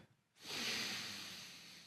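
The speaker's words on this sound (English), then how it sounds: "we always come back to that breathing, slow and controlled in and out of your nose" Slow, controlled breath drawn in through the nose during an at-home beginner yoga routine: one steady, airy hiss that starts abruptly, stays close and fairly loud, and fades only slightly over a couple of seconds, with no talking.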